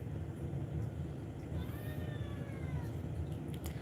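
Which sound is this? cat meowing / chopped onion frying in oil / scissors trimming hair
cat meowing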